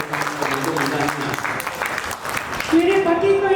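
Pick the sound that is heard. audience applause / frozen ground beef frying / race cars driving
audience applause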